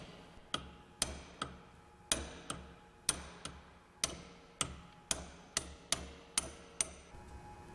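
A hammer taps out a bearing pin in a front bearing repack, about fifteen sharp metallic strikes landing in a fairly regular rhythm, close and crisp with short ringing decays and no voices.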